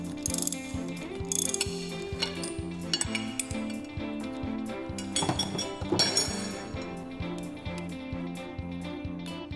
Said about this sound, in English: Hold the output shaft flange with the special tool created for that purpose while you remove the flange nut.